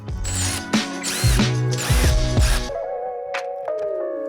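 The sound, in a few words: ratchet tightening 10mm bolt on Corvette C8 spoiler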